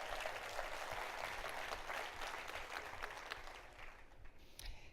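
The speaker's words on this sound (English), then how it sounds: "So give yourselves a round of applause" An audience at a travel industry talk claps together in sustained applause, a dense even patter of many hands that holds steady and then thins slightly toward the end.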